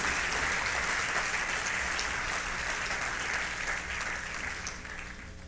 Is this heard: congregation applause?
yes